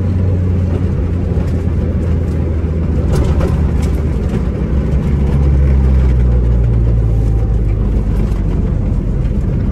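A car engine and road rumble fill the cabin steadily while driving on Peak District roads, a loud low drone that swells slightly midway.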